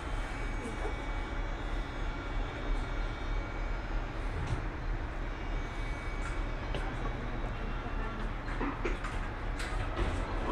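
Steady rumble of a Miami Metrorail Orange Line train riding northbound toward the airport, a continuous low-frequency roll with faint rattles and squeaks, heard from inside the car.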